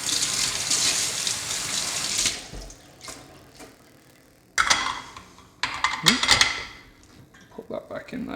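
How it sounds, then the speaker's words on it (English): Running water gushes as a Lelit Bianca espresso machine is rinsed, a loud hiss that stops abruptly, then returns in shorter splashy bursts with clatter, close up and alone. "So we'll get rid of this. A bit of a rinse."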